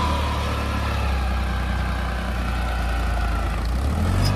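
A New Holland 35 hp tractor pulling a tiller through wet field soil, its engine a steady, close, unbroken drone throughout with no voices.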